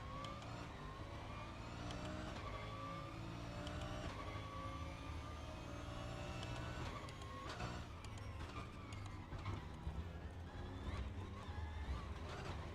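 Nissan GT-R race car in the RaceRoom racing game, its engine note rising and falling through gear changes alongside other cars, a dense continuous mechanical roar at moderate level.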